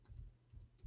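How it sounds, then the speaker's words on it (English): Computer keyboard typing comes as a few quick, soft key clicks in small bursts, close by and faint in a quiet room. "Oops, got typing. Excuse my keyboard."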